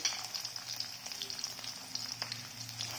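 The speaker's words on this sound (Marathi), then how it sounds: "आता आपण मिरची अगदी कुरकुरीत होईपर्यंत हे सर्व छान भाजून घ्यायचे।" Steady crackling sizzle of dried chillies and roasted peanuts frying in hot oil, close and continuous, with bright popping spatters throughout and no voices.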